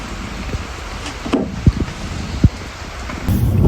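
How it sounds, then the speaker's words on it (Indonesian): Steady rain falls as a continuous hiss with a few soft, sharp drips or taps close by and a louder patter near the end, no voices. "Tuh hujannya rata, jadi seharian hari ini tuh bakalan hujan."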